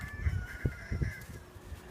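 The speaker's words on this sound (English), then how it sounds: "That rooster you hear is Roscoe." A rooster named Roscoe, kept with two hens, crows in short hoarse bursts, fairly faint and a little distant in an outdoor yard.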